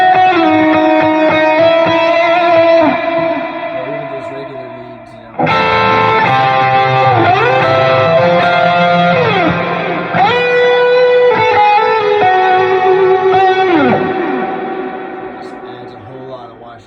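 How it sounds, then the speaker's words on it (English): Sustained, washy electric guitar chords and sliding notes through an Axe FX 3 processor, drenched in heavy reverb, ringing on continuously with a long echoing tail that fades at the end. "That just adds a lot of reverb in there."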